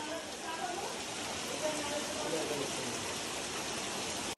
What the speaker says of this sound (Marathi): हा पाऊस आलेला आहे बघा